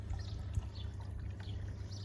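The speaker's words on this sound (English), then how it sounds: "with just water coming through the jets" A single-pump, two-speed spa runs its pump on low speed, pushing water through the jets with a steady low rumble and churning, bubbling wash, faint and continuous with no voices.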